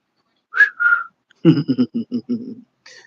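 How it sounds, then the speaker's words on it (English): A person whistles two short bright notes, then a quick run of buzzy, pulsed tones, ending with a brief final whistle. "I can whistle too."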